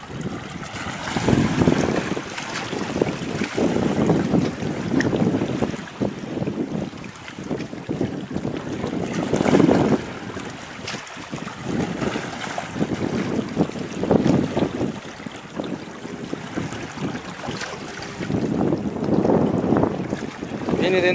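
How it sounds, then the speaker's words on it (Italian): Strong wind gusts buffet the microphone beside a radio-controlled model sailboat out on open water, a continuous roar that swells and eases in waves, with a faint wash of water underneath. "E cominci a risentirne delle raffiche."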